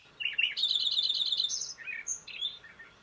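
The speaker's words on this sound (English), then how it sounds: "The call of this sparrow may trick you into thinking it's a wren until it is seen." A sparrow with a wren-like song, heard on a spring bird walk: a clear run of high, bright chirps and trills followed by a few shorter separate notes, close and alone with no talk.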